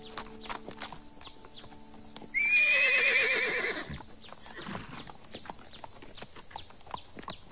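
A small abandoned horse named Pistache gives one loud, shrill whinny that rises and then trembles downward over about a second and a half. Clip-clop hoofbeats and a quieter farmyard setting surround it.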